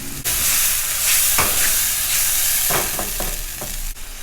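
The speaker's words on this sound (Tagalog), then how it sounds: "Pag luto-luto na yung ating sibuyas, para matapos na itong gisa-gisahan, lagyan na natin ng bawang" Onion and garlic sauté in hot oil for chicken macaroni sopas, a loud, steady sizzle broken by several sharp scrapes and clinks of a spoon stirring in the pan.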